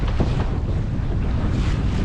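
Strong wind roars steadily across the microphone aboard a Mirror dinghy sailing beam on to the wind at Lake Bala in big waves, with dense, unbroken rushing noise.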